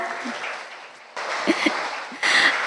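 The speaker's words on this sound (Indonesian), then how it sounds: "sekali lagi tepuk tangannya" An audience at a Kebumen regency arts and culture gala claps in a broad wash of applause that swells in two clear steps, growing louder toward the end.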